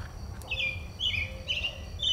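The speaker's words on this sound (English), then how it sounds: "Birds are singing." Small birds sing on a late-winter morning near a blooming pear tree, giving a few short high chirps in quick succession over quiet background hiss.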